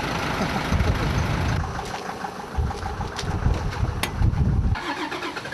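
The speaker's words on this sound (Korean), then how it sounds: "이 모든 차들이 이렇게 다 미리 시동을 걸고 계시네요." Several truck engines idle in the cold before dawn at a sanitation depot, a steady low rumble with a few louder surges and a brief tonal whine, no talk over it.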